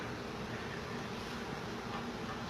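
Honey bees buzzing steadily at close range during a live removal of a colony from a house soffit, a dense continuous hum with no talk over it.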